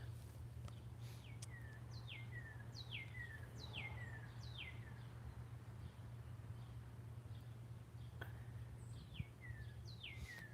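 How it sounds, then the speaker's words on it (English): Small birds sing in a spring garden, a repeated series of quick descending chirps in bright bursts, fairly faint and a little distant over a steady low hum. "I love those birds."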